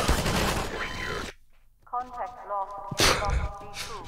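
A mounted gun fires in Half-Life 2, with a loud rattling burst, a pause, then another heavy volley. Voices talk between the shots.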